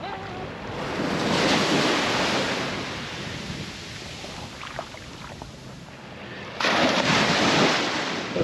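Waves washing onto a beach at Playa de los Pocillos, Lanzarote, a loud broad rushing surge that swells, eases, then surges again, with wind buffeting the microphone.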